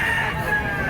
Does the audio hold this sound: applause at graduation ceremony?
no